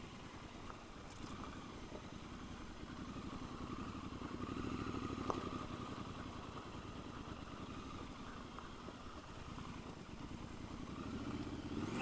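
A Triumph Scrambler motorcycle rides over gravel, its steady mid-pitched engine drone running continuously with a faint crunching clatter underneath, fairly close and constant throughout.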